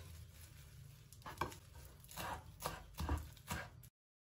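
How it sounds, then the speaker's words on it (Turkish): A knife finely chopping fresh parsley on a board, a series of distinct close taps in an uneven rhythm, with no talk. "Maydanozlarımızı da ince ince kıyıyoruz."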